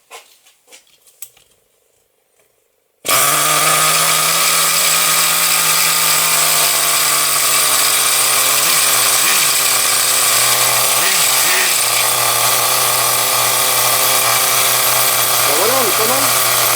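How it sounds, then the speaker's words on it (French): A small two-stroke RC nitro engine catches after a quiet start and runs loudly and steadily, its pitch wavering briefly as the throttle shifts. "Et voilà comment on démarre un moteur facilement."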